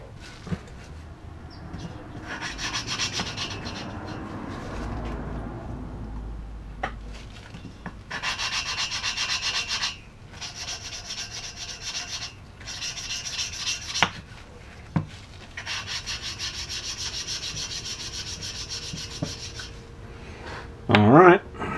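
Gritty rubbing and grinding in repeated bursts as an engine valve is lapped against its seat in a 1969 VW Beetle cylinder head, close by, with pauses between strokes and a sharp squeak near the end.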